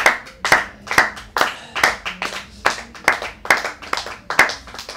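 A church congregation at a Sunday worship service claps in acclaim of God, with loud, steady rhythmic handclaps repeating at a brisk even pace, close and reverberant, with no voices over them.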